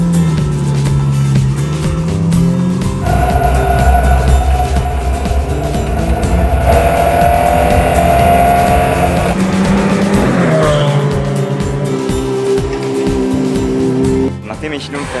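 Ferrari sports car driving on the Autodromo di Modena circuit, engine roaring loudly and continuously with rising and falling revs through gear changes, tyres squealing, a voice talking over it.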